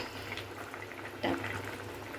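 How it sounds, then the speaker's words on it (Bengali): A pot of fish curry with potato and eggplant boiling on a gas stove, a soft, steady bubbling simmer with a slightly louder gurgle partway through, faint and close. "এই দেখো কাটা মাছের আলু বেগুন দিয়ে ঝোল হচ্ছে ফুটছে"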